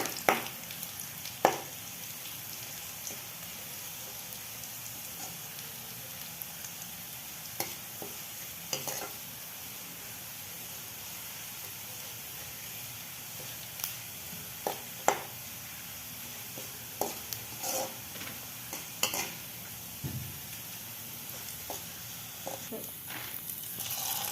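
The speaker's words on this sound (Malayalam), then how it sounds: "ഇതിലേക്ക് കറിവേപ്പിലയും രണ്ട് പച്ചമുളകും കൂടെ ചേർത്ത് ഒന്നുകൂടെ ഒന്ന് ഇളക്കാം ഉള്ളി ഒരു ബ്രൗൺ നിറമാകുന്നത് വരെ വഴറ്റിയാൽ മതി" Onion, curry leaves and green chillies sauté in a pan for a chickpea curry, with a soft steady sizzle and occasional stirring scrapes and clicks throughout.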